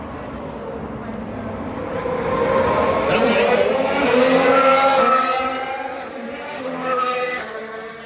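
Formula 1 race cars duel on the Las Vegas street circuit, engines rising into a loud, sustained high whine as the cars pass, then fading, with voices talking over them.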